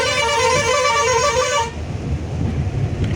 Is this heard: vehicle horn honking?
yes